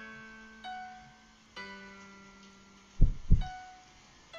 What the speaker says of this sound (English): And the heartbeat's happening again